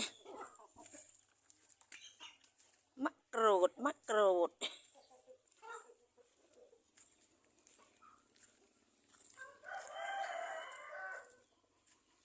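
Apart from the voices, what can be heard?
chickens clucking and rooster crowing in a yard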